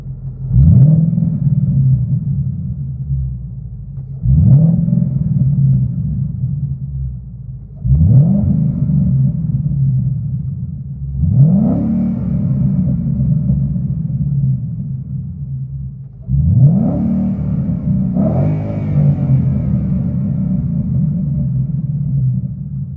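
Deep, throaty V8 exhaust of a 2014 Ford Mustang GT heard from inside the car, revving up in five or six swells roughly every four seconds, then dropping back to a rumbling idle.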